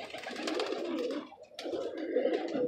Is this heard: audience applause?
no